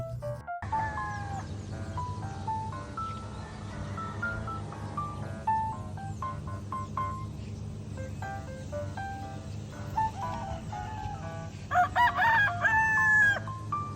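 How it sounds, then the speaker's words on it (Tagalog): A rooster crows repeatedly amid a busy farmyard, other fowl clucking and calling throughout over a steady low background hum. "meron din tayong manok na pansabong"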